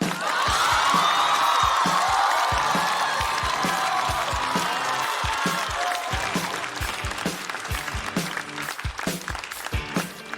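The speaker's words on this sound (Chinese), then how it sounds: "掌声有请" A theatre audience at a televised stand-up comedy show applauds to welcome a comedian onto the stage. The clapping is loud and sustained, with some whoops and cheers early on, then thins into scattered claps toward the end.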